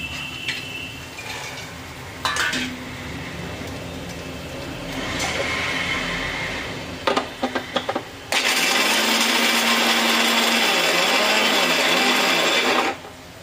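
Mixer grinder grinding roasted peanuts, starting with a few short bursts before running as a loud steady whir for several seconds and then stopping, after quieter kitchen clatter.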